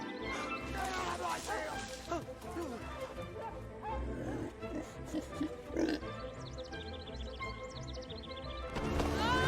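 Cartoonish pig oinks and grunts from the video game LEGO The Lord of the Rings play over busy game music, with a person talking throughout.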